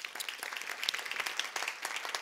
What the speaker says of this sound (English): Can we have a quick round of applause for our judges?